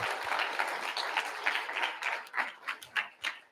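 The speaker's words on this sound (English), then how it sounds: "if you could give a big round of applause for our sponsors" Applause for sponsors from an event audience, fairly faint and distant, starting as a dense wash of clapping and thinning into sparser, separate claps that trail off toward the end.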